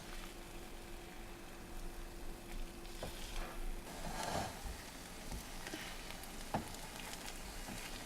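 Eggs frying in a pan while being stirred, a soft, fairly quiet continuous sizzle with occasional faint clicks of the utensil, no talking.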